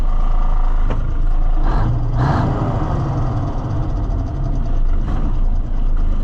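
A Ford L9000 semi truck with a Cummins diesel engine idles loud and close, a steady heavy rumble with a few brief hissing air releases on top.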